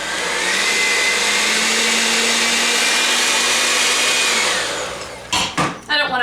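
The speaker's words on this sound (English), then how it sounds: "since I'm using a handheld mixer, I'll probably have to start stirring it with a spoon" A handheld electric mixer beats flour into cookie dough, a loud steady whir that runs for several seconds before cutting off, followed by a few clattering knocks.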